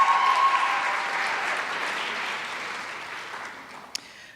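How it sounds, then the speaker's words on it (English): Audience applause fills an awards convocation ceremony hall, a broad steady wash of many hands clapping that starts strong and gradually tapers off over about four seconds, ending with one sharp tap. "let's have a round of applause"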